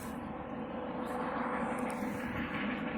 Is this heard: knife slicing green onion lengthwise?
no